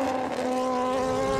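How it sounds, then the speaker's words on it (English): A BMW superbike at full racing speed on the Isle of Man TT course produces a loud, steady high-revving engine whine that holds for just over a second. "Peter Hickman is absolutely flying now on the Monster Energy by FHO Racing BMW."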